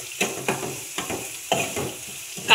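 Onions fry in a pan for tomato dal while being stirred, with about six rhythmic scraping strokes over a soft sizzle, close and clear, with no talk.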